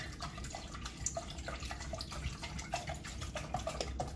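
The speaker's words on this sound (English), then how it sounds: "we're going to pour it directly in the pan" Raw goat milk, about half a gallon, is poured straight into a pan, giving a steady liquid splashing and trickling with small drips, close and moderately loud, with no talking.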